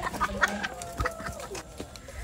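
Chickens cluck and squawk in a busy flock at feeding time, close and lively, with short overlapping calls and no talk.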